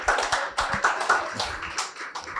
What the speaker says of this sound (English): Please, let's give them a rousing applause.